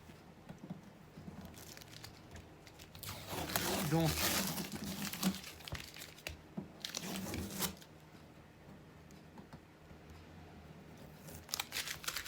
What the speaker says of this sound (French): ça c'est une scotch de protection que j'enlève là actuellement